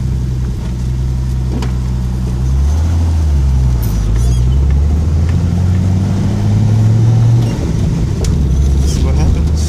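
A 1970 Datsun 240Z with a turbocharged L28ET engine pulls hard in second gear, its loud engine note rising and dipping steadily under wind and road noise from inside the car.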